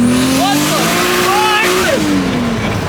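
A Toyota Supra pulls hard under full acceleration, its engine note rising steadily and loud from inside the cabin, with brief tire chirps and passengers talking over it.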